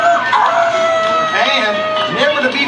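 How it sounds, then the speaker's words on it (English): A rooster on a farm show post crows loud and close, one drawn-out call over continuous background chatter and noise. "Give a big welcome to my good friend on the post over there, Rusty Rooster."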